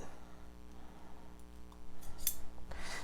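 Scissors trimming a fabric notch on a sewn bikini brief, a few quiet close snips with a sharp cut near the end, no talking.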